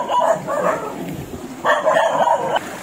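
Dogs bark near a river where shrimp and fish are being caught at night in the countryside, giving two loud bursts of barking separated by a short pause.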